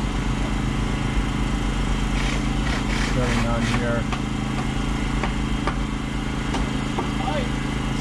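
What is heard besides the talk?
generator running power tools to board up windows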